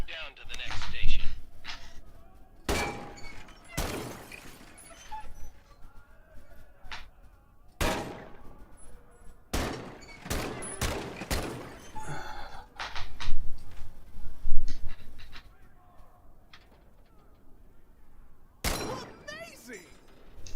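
Rifle shots from an M1 Garand in the game Medal of Honor: Above and Beyond: several sharp, loud single cracks spaced irregularly, with a voice talking between and over them.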